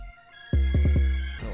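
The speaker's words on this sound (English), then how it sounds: "So we're going to start with some 808s." Deep 808 bass hits from a trap beat built in FL Studio, a quick cluster of three to four booming, sustained low notes following a brief higher tone, loud and close with no voices.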